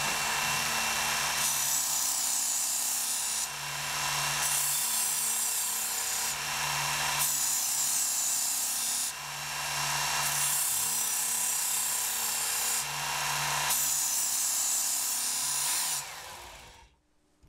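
A Work Sharp Ken Onion electric sharpener grinds a knife on its belt, a loud steady whine broken into repeated passes of a few seconds each, with brief pauses between strokes, before winding down at the end.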